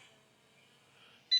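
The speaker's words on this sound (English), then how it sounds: "It's beeping a lot." A camera drone returning to auto land gives a short, bright electronic beep near the end, sounding alone over a faint steady hum.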